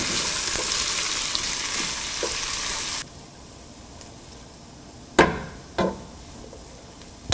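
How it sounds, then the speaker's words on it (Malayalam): Turmeric and Kashmiri chilli powder are sautéed for a venison pickle, giving a steady loud sizzle that cuts off abruptly halfway, followed by near silence and two sharp utensil knocks. "എടുത്തു വച്ചിരിക്കുന്ന മഞ്ഞൾപ്പൊടി, കാശ്മീരി ചില്ലി പൗഡർ എന്നിവയിട്ട് ശരിക്കും മിക്സ് ചെയ്ത് വഴറ്റിയെടുക്കുക."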